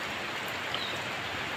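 Steady, heavy rain pouring down over a flooded yard, a continuous hissing wash with no voices over it.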